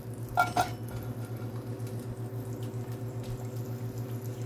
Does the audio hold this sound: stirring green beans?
yes